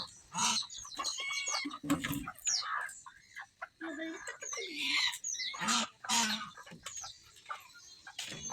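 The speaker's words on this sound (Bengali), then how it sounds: "মুরগির জ্বালায় আমরা বাঁচি না।" Chickens cluck and squawk close by at a house in the evening, in repeated uneven bursts with short pauses.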